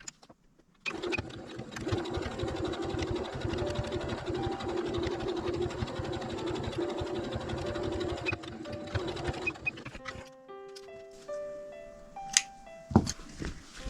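A sewing machine stitches around the opening of a hexagon patchwork bag, a continuous fast mechanical whir lasting about nine seconds before stopping, followed by faint handling clicks.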